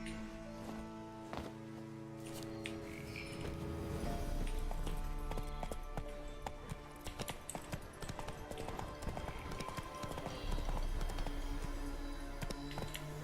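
Roach the horse galloping in The Witcher 3, rapid clip-clop hoofbeats that run steadily with a game music bed underneath and sharpen and grow louder partway through.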